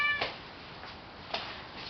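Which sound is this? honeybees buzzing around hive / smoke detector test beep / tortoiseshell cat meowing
tortoiseshell cat meowing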